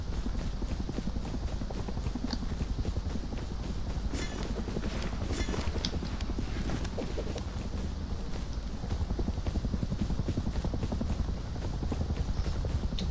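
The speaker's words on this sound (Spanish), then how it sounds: "Mira que está por aquí el helicóptero este pesado." Helicopter in the video game Rust, a steady droning rotor and engine roar holding at one level throughout, with no speech over it.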